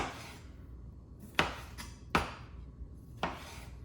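A knife chops tomatoes into a small dice on a cutting board in a few sharp, evenly spaced strikes, close and crisp, with faint slicing between and no talking.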